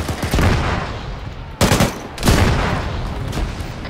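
Gunfire and grenade blasts in an Arma 3 battle as a jeep drives in, a steady roar of shooting broken by two sharp, loud bursts, with no talking.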